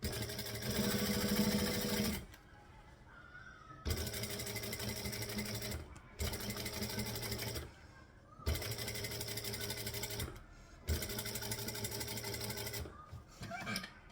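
A sewing machine runs in four bursts of steady stitching on fabric, tacking pieces down along a bottom seam, each run lasting about two seconds with short quiet pauses between them.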